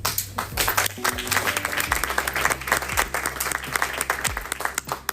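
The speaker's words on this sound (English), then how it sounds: "I like when everybody claps, we're all happy." Sustained applause from a crowd at a diaspora organization's annual general meeting in Calgary, dense steady clapping filling the room with a few louder hits, and some voices faintly underneath.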